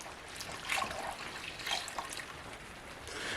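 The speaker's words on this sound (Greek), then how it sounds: "Θα ρίξουμε 720 γραμμάρια νερό." Lukewarm water pours steadily into a mixing bowl for bread dough, a continuous soft splashing rush with slight swells, at moderate distance and fairly quiet.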